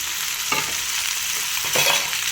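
Eggs and cut okra pieces frying together with salt in a pan, a steady bright sizzle with two distinct bursts of stirring and scraping, close and fairly loud, without any talk.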